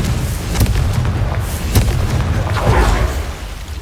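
Confringo fire spell cast in Hogwarts Legacy, a loud rumbling explosive burst with crackling debris and repeated booming impacts layered over a heavy low roar, all continuous and close.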